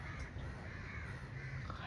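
A crow caws outdoors at Querim Beach in Goa while tearing into a packet of chips, its calls set against steady beach wind and surf noise that fill the background.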